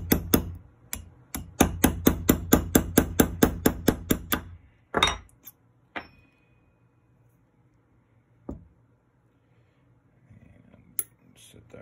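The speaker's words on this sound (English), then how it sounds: "we'll take and drive this roll pin out, get the bolt body away from the bolt head" A hammer drives a roll pin out of a Bergara B14R rifle bolt, giving a steady series of about a dozen sharp metallic taps. A few louder isolated strikes and light handling clicks follow, then near silence.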